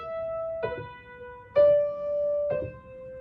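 Piano plays the opening of Für Elise with both hands together: three separate struck notes or chords, each left to ring and decay, spaced about a second apart at a slow beginner's pace.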